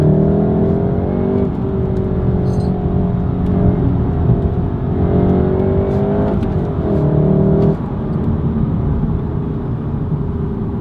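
A 2019 Volkswagen Golf R MK7.5 driving through a corner with traction control switched off: a loud, steady engine drone with shifting revs and tire whir, close and continuous throughout.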